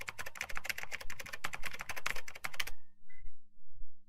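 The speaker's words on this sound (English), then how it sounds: "What are you typing? What are you typing?" Rapid clatter of keystrokes on a computer keyboard, loud and close for nearly three seconds before stopping abruptly, leaving only faint background tones.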